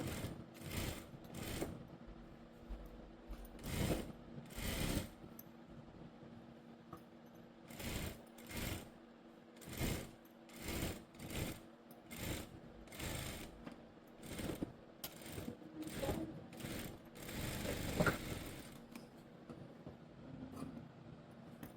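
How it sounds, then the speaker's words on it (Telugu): A sewing machine runs in repeated short bursts while stitching a school coat, the whirring runs starting and stopping in an irregular rhythm, close up with no talk. "ఒక 1/4 ఇంచ్ ఉండేలాగా కుట్టు అయితే వేసేసుకుందాం చివరి వరకును"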